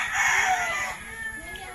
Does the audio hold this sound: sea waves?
no